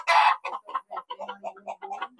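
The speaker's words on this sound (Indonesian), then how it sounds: "Ya, ya, manuk sabung. Ayam sabung dewasa." An adult fighting rooster clucks in a rapid series of short, sharp calls, one louder squawk opening the sequence, close and clear with no talk.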